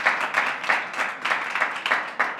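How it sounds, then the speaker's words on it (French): An audience at a talk on recruitment firms applauds, a steady wash of many hands clapping in rhythmic pulses, loud and sustained with no talk. "vous pouvez effectivement les applaudir"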